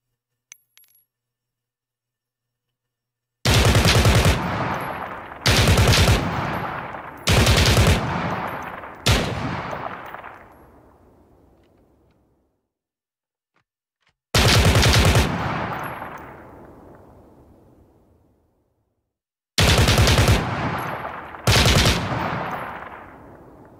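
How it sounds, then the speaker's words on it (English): An AI-controlled enemy fires a G3 rifle in a video game, with loud sharp shots in quick groups of several, separated by long silent gaps and each trailing a decaying echo. "They're showing off an AI that has a G3, one of my favorite weapons in the game so far."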